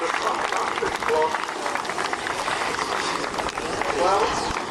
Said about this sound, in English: he's heard your applause, so you have to applaud more loudly